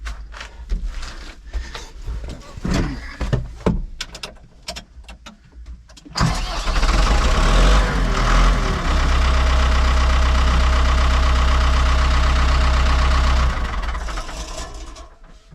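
Old tractor engine cranking with uneven turning-over sounds, then catching and settling into a loud, steady, close idle with a deep rumble that trails off at the end.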